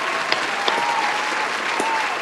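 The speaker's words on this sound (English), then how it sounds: "round of applause for Jamal Dennis" An audience applauds for a stunt performer, a brief burst of dense clapping with a few sharper claps standing out near the front.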